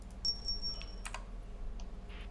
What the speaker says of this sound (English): You guys are all, like, typing high YouTubes.